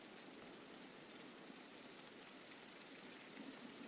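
Steady rain falls at night in The Isle, a broadband hiss of drops on surfaces that stays even and constant throughout, with no voices.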